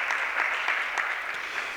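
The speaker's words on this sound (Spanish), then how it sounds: "Vamos a darle un fuerte aplauso" Audience applause at an interior design networking event in a Porcelanosa showroom in Castellón, a moderately loud, even patter of clapping throughout.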